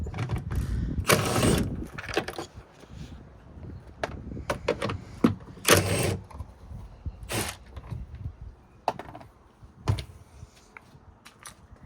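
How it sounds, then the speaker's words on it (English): A 10mm socket wrench working the bolts out of a vehicle taillight housing: close, irregular ratcheting clicks and metallic rattles in bursts, with no speech. "just use a 10mm socket"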